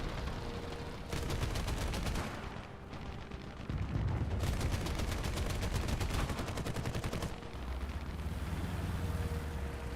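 A tank's machine gun fires in War Thunder from an M41 tank, long rapid-fire bursts rattling in several strings over a steady engine drone, with brief pauses between bursts.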